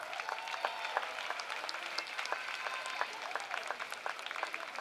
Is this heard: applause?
yes